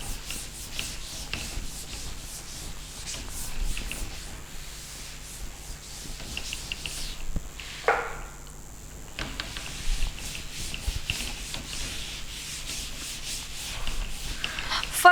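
Writing is rubbed off a board in steady back-and-forth strokes, a dry scraping swish that continues for the whole stretch, close and fairly quiet, with no talking.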